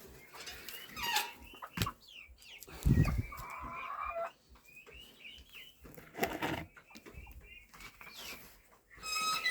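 Chickens cluck and squawk nearby in a farmyard, with sharp repeated squeaks, a brief flutter of wings and scattered rustling at a fairly low level.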